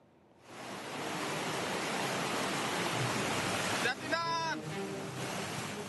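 Swift, rising river water during a flood under grey skies, a loud continuous rushing roar that builds in after a quiet start, with a brief voice or call cutting through near the end.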